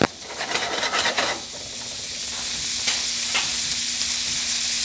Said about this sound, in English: So we're going to saute these until they are pink.